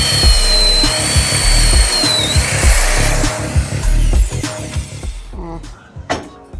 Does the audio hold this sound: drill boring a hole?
yes